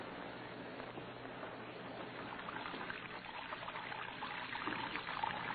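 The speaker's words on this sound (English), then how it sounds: "watching water pouring from his wash basin to the cell floor" In an old-time radio drama, water spills from a jail-cell wash basin onto the floor as a soft, continuous trickle and splash, faint and steady, slightly swelling toward the end.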